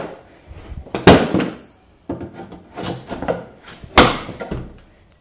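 A stuck wooden drawer on an old paint-covered sideboard is yanked and jostled, giving several loud wooden thunks and scraping bangs in bursts, close by with no talking.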